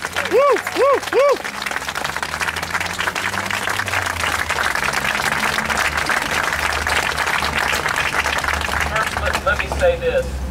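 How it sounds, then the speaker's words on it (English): A rally crowd breaks into loud, sustained applause that fills the whole stretch, with whoops and cheers rising over the clapping. "give as loud a round of applause"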